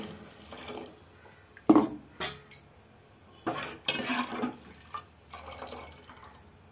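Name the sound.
water poured into egg sambar pot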